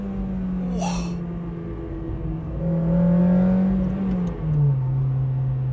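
A Honda Integra Type R with a modified ECU and exhaust accelerates hard, its engine note rising and rumbling loud and close, with a steady droning tone climbing in pitch across several seconds.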